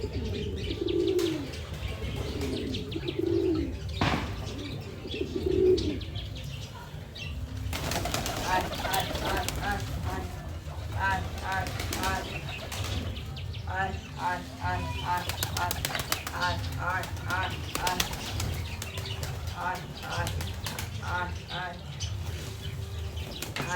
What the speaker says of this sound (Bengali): তোমরা দেখতে পাচ্ছ পায়রাগুলো ধরে নিয়েছি আমরা একটা পায়রাকে।